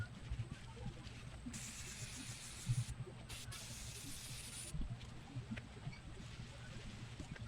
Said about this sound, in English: we'll add a layer of spray to the batting